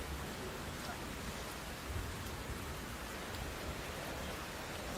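Heavy monsoon rain pours steadily in Raigad in the Konkan region, a dense, even hiss of falling water with no break, heard at a moderate level.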